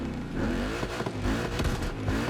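A 1000 HP Ford Mustang Dark Horse engine revs continuously in the video game The Crew Motorfest, its pitch rising and falling in sweeps, loud and close, without any voices.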